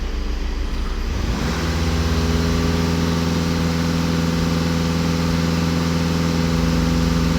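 A VW Passat bi-turbo diesel, just after a DPF regeneration, has its engine pushed to full throttle and held there: the note climbs quickly, then settles into a loud, steady, sustained drone up close.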